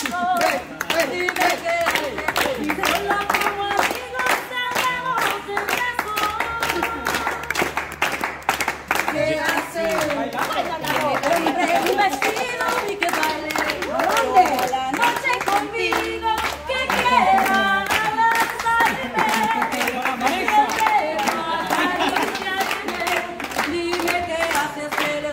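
Audience clapping along in rhythm to a lively cumbia song, steady hand claps running throughout over loud music and singing.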